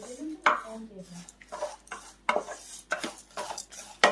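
Spices for sambar powder dry roasting in a pan, heard as irregular metallic scrapes and clinks of a spoon stirring against the pan, with a voice talking at the start.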